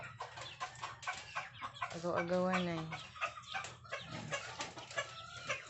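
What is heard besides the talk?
chickens clucking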